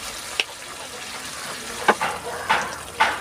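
Koi fish bhuna cooking in mustard oil, a low steady sizzle with a few sharp crackling spatters and stirring bursts toward the end, close by.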